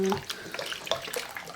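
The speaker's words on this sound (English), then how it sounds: "4 cups of delicious beef stock of your choice. And get her all in there, and it takes forever." Beef stock pours into a pan for mushroom onion gravy, a soft continuous liquid splashing and trickling, fairly quiet and close, with no talk over it.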